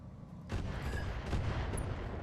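MML missile launchers fire in a mech video game, a faint muffled burst of rapid booming launches that starts abruptly and rumbles on with a few sharper thumps, no talk over it.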